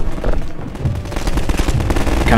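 Rapid automatic gunfire in the shooter game Half-Life 2, a loud, dense, continuous rattle of shots filling the whole stretch, with no talking.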